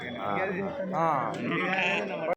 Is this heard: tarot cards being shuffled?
no